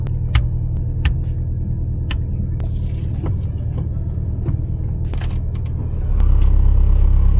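A 2000 Honda Civic SiR with a Nitro Fuse full exhaust idles while warming up on a rainy night, a deep steady rumble with faint clicks, swelling louder and heavier in the final second; no talk.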